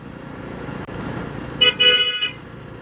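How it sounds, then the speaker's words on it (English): A car horn honks from a vehicle just ahead on an empty road, in a few quick toots over steady engine and road noise heard from a rider's position. "This person in front of me is just honking at an empty road."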